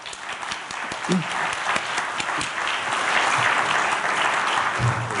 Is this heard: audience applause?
yes